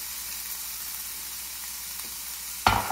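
A pan of ginger, garlic, scallions and onions gives a soft, even sizzle for a veggie pad thai. Near the end, zucchini drops into the oil and sets off a sudden loud burst of hissing.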